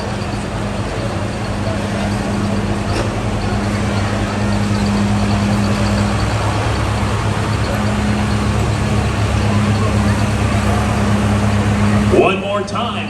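A 1973 International 1466 tractor idles at a tractor pull with a steady, loud low engine drone throughout, and an announcer speaks over it.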